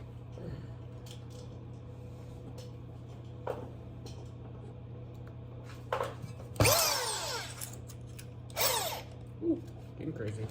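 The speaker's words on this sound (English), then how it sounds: "Help plug the drill in." A power drill used during a K-swap Mini Cooper build for throttle body and header work whirs in a few short, sharp bursts over a quiet background hum in a garage.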